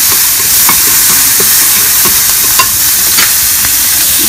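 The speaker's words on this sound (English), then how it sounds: "We're gonna make sure that we crisp this bacon up." Smoked bacon crisping in a hot pan, a steady loud broadband sizzle with scattered small pops and crackles, close and continuous with no talking.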